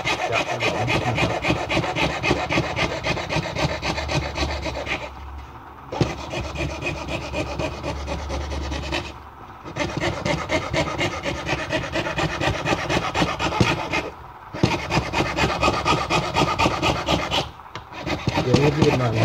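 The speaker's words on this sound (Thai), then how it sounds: "ตัวนี้เลื่อยทิ้งเส้นนะให้เห็นเส้นอย่าเลื่อยให้หมดเส้น" A hand saw cuts through an acrylic sheet being shaped into an amulet frame, a steady scraping back-and-forth rasp broken by a few short pauses, loud and close with no talk over it.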